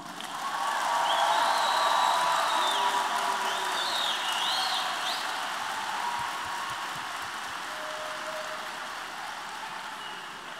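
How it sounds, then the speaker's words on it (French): Audience applause at a school graduation farewell ceremony for the class of 2022, a steady wash of clapping heard from a distance with a few faint whistles and shouts mixed in. "Promo 2022, vous méritez nos félicitations et nos applaudissements."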